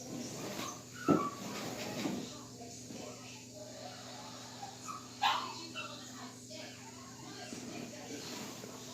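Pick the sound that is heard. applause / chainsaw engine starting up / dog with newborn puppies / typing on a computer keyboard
dog with newborn puppies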